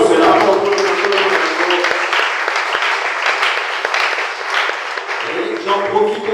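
A congregation at a French-language church service applauding, a sustained wash of clapping that runs for several seconds with a voice talking over it and fades slightly near the end.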